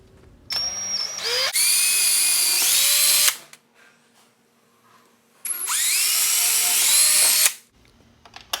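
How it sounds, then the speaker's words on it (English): A power drill pre-drills screw holes for a door lockset's decorative plate, two loud whining runs of about two seconds each whose pitch rises as the motor speeds up, split by a quiet pause. "then you can pre-drill your holes"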